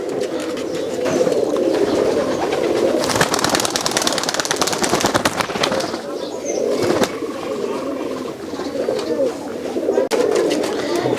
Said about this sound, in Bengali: এই কবুতরগুলো আপনার অনেক ভাইরাল কবুতর, মানে হলুদ দুবাস কবুতর